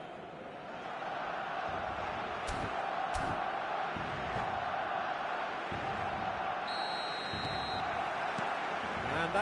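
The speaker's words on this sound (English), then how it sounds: "The stadium is full of noise and energy." Stadium crowd roar from the eFootball video game, a steady, loud wash of massed voices filling the whole stretch with occasional sharper shouts and bangs rising above it.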